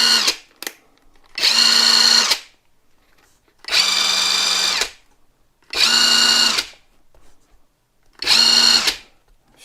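A LYUWO LW-LDD60 cordless impact wrench runs in four separate whirring bursts of about a second each, loud and close, with silent gaps between them.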